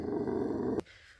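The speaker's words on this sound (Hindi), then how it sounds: "वो वहां घुराई जा रही है" A dog gives a close, low, rumbling growl that holds for under a second and cuts off abruptly, leaving quiet room sound.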